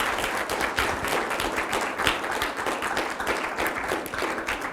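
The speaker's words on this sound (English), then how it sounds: "Big round of applause" An audience at a gourmet symposium applauds chef Marco Pierre White as he is called up, producing a dense, continuous wash of clapping that holds at an even level from start to finish.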